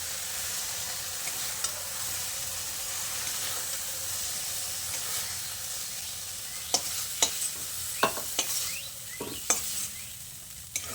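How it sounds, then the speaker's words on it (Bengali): Okra frying in mustard oil in a kadai gives a steady soft sizzle throughout, broken near the end by several sharp stirring scrapes and clinks at close range. "ঢাকা দিয়ে 2-3 মিনিট ঢ্যাঁড়সটাকে আমি ভেজে নিয়েছি"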